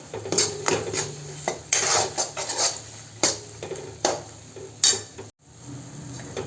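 Metal utensil scraping and clattering in a pan while soybean masala sautés in oil, with repeated sharp stirring knocks and a faint sizzle underneath, close and fairly loud.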